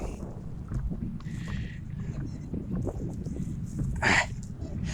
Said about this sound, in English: It's windy. It's getting blown away.